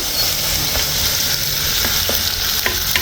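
Tomatoes sautéing in a pan for a tamarind curry, a steady, close frying sizzle with occasional spatula scrapes and light pops.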